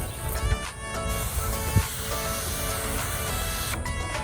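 Quiet hissing bursts of a spray bottle misting water while tinting the frameless windows of a Volkswagen CC, a few short sprays over faint background noise.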